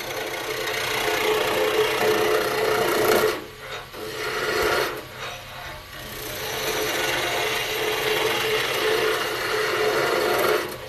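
A skew chisel shears along a wooden spurtle spinning on a lathe, making a loud, continuous rasping scrape with two brief pauses when the tool lifts off.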